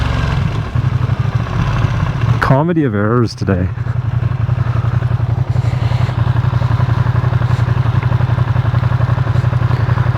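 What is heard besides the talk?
motorcycle riding at 100 km/h, recorded with Rode Wireless ME mic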